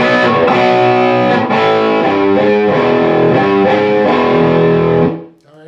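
Loud, heavily distorted electric guitar power chords strummed in a chugging rhythm, ringing out and then cut off abruptly at the end.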